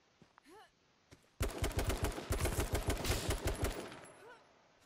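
Rapid automatic gunfire in the battle royale game H1Z1 erupts after a quiet stretch with brief voice sounds, then runs as a loud, dense burst of repeated shots for the rest of the clip.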